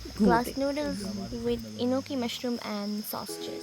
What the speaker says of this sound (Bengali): চারদিকে অন্ধকার আর অসংখ্য ঝিঝি পোকার ডাক